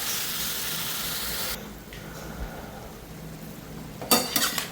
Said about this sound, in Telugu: పర్లేదు, నేను ఇందులో పెట్టి ఫ్రై చేసేస్తాను.